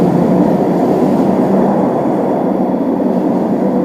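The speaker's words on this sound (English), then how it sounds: "So once this RT train rolls out, I'll be heading over to Lawrence." A Toronto Scarborough RT Line 3 train rolls out of the station with a loud, steady rumble. It sounds close and continuous, with no talk over it.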